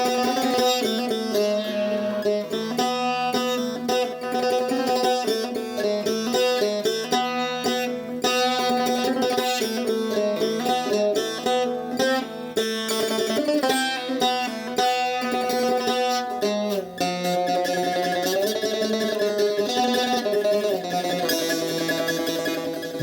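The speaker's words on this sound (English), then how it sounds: "This is the sound of tar." A tar, the Iranian long-necked lute, plays a continuous melodic solo with bright plucked strings and rapid note runs, close and steady, with no voices.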